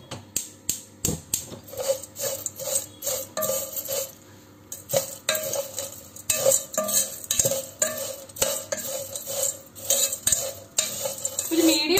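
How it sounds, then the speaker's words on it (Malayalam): Vermicelli roasting in ghee in a pan for an Onam special is stirred continuously, giving a steady run of close, rhythmic scraping and clinking strokes of a spoon against the pan, with no talking. "അത് നമുക്ക് ഇളക്കിക്കൊണ്ടിരിക്കുകയാണ്."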